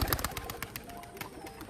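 Two pigeons burst into flight, their wings clapping in a quick series of sharp flutters, quiet and close, with no voices.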